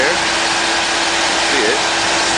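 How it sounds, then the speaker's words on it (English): A Jeep CJ7 with a 304 V8 converted to run on propane idles steadily and loudly up close, with a Ford Taurus electric cooling fan kicking on and adding a constant rushing whir. "That's the Taurus fan kicking on right there."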